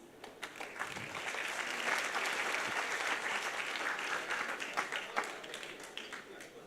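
Sustained round of applause from an audience at an education and leadership congress, steady dense clapping that swells and holds for several seconds before tapering off.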